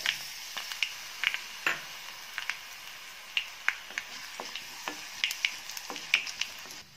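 Dried red chillies frying in hot coconut oil in a Kerala kitchen, with a steady soft sizzle broken by frequent sharp little crackles and pops close by.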